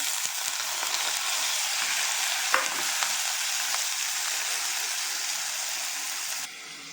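Vallarai leaves being sautéed in a pan for chutney make a dense, even sizzle with faint stirring ticks that runs for several seconds, then drops abruptly quieter near the end.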